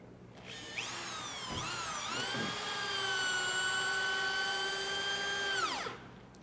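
A power drill drives HeadLok screws into a log door frame, a steady high whine spinning up, briefly dipping, then running continuously for several seconds before winding down, close and alone.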